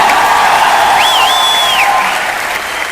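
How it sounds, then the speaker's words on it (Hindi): A large crowd at an award function applauds steadily and loudly throughout, a dense wash of clapping with a brief high whistle-like tone rising over it. "एक बार जोरदार तालियां"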